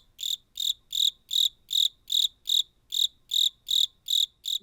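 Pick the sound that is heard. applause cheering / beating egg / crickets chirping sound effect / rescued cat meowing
crickets chirping sound effect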